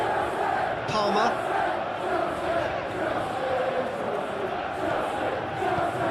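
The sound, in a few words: stadium crowd reacting in eFootball 2021 video game match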